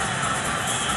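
Large crowd in a packed women's club handball arena roars and cheers in a steady, dense wash of noise.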